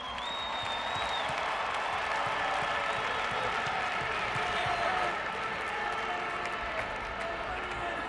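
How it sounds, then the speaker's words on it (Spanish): Large crowd of football fans at a Euro 2012 celebration applauding and cheering continuously, a dense, loud wash of clapping and voices filling the whole stretch. "Un aplauso muy grande para todos los aficionados que han viajado."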